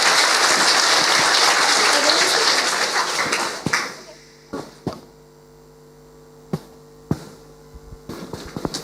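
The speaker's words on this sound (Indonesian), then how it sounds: "Ini teman-teman beri tepuk tangan yang meriah." Lively applause from a student audience welcoming a guest speaker at a campus talk, loud and full at first, then fading into a few scattered claps over a steady electrical hum.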